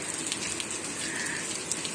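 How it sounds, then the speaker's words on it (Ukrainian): Heavy rain falls in a steady, dense hiss, continuous and fairly loud, with no voices. "а тепер вже такий сильний дощ"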